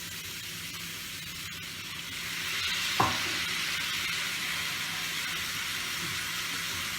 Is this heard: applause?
no